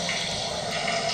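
Shower water runs in the horror video game Outlast, a continuous, loud gushing hiss that holds steady throughout without any talk.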